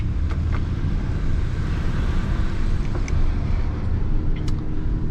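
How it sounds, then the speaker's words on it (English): A Polestar 1's combustion engine runs quietly as a low, steady hum under broadband wind and road rush, with a few faint clicks and ticks and no talk. "I do hear the internal combustion engine now, but it's very quiet"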